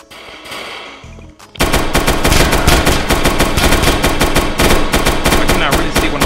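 Rapid automatic gunfire in a Roblox shooting game, loud and continuous after a brief quieter lead-in with a few shots.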